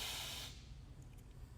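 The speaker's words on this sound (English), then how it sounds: "I sniff in a bunch of air." A single sharp inhale through the nose, a breathy sniffing hiss that lasts about half a second, then quiet room tone.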